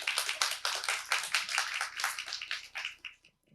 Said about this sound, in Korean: 무대에 올라오실 때 큰 박수 부탁드리겠습니다